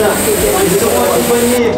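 A spray paint can held against the base of another paint can sprays in one continuous, loud, close hiss that cuts off abruptly at the end.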